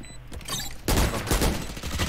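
Video game gunfire: a sharp shot, then a dense, loud burst of rapid automatic fire that hammers on close and unbroken for over a second.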